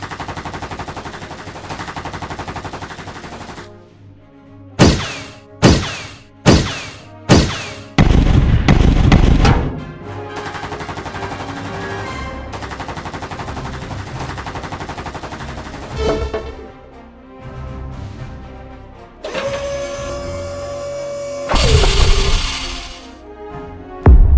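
Gunfire in an animated robot battle against an army: a quick run of loud, separate shots, then a dense burst of rapid fire, followed by booming impacts and whooshing effects over a music bed.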